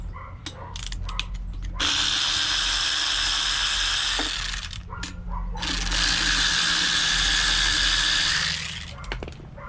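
Rapid ratchet clicking in two long sustained runs as intake manifold bolts are cracked loose on a Honda CT70, close and loud, with short clanks and tool handling between the runs.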